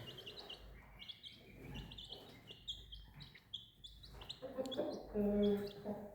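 Many small high-pitched chirps and peeps from chicks overlapping continuously, with some soft clucking from newly arrived hens and low background noise.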